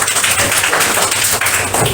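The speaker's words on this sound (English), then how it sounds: "Clapping." Children clapping in a school classroom during a spoken English oral exam, a steady, loud, close patter of many hands that continues without a break.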